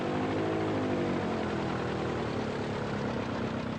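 Homemade styrofoam and fiberglass light airplane at Anoka Airport running its engine for a trial flight, a loud, steady, buzzing propeller drone held close throughout with no voices.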